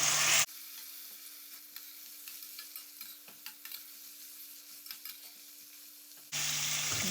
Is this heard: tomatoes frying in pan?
yes